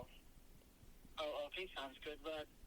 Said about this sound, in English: Oh my god, my phone ringing.